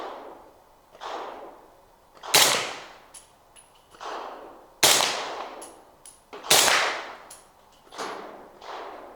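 A suppressed custom 300 Blackout rifle fires subsonic rounds outdoors: five sharp cracks spaced about two seconds apart, each followed by an echo and a fainter answering thump, likely rounds hitting the berm downrange.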